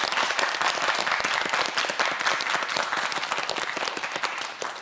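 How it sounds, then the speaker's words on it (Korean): A studio audience on a televised science quiz show claps loudly and steadily for the students before the final round, a thick, continuous burst of many hands lasting several seconds. "박수 부탁드립니다"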